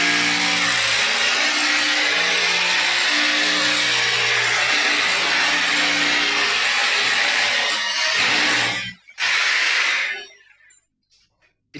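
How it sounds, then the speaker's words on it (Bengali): Power tool drilling holes through a concrete roof during home ceiling work, a loud, steady grinding drone that runs continuously for about eight seconds, then cuts out briefly, returns in a short burst and stops. "বাবা, কিভাবে ফুটো করা হচ্ছে ছাদ!"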